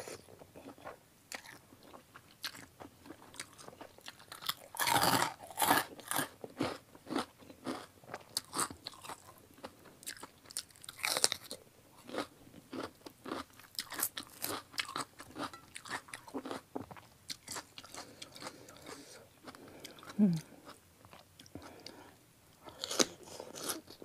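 Crispy pork is bitten and chewed close up in loud, irregular crunches that come in bursts with short pauses between them, over near silence.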